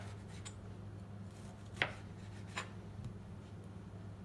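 A knife slices through oranges for a fruit salad, giving two or three faint, short cuts against a quiet kitchen background, with no talking.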